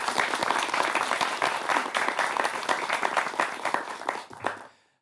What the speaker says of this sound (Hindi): इनके लिए भी तालियां होनी चाहिए।